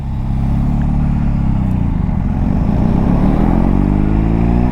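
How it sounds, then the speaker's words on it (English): A BMW R18 B cruiser motorcycle pulls away hard in first gear, its big engine a loud, close, throbbing low rumble that rises steadily in pitch as it accelerates. "Oh man, that first gear takeoff is just so much fun"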